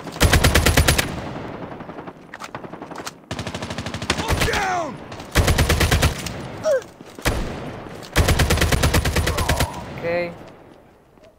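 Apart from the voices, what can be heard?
ASM-10 rifle gunfire in Call of Duty video game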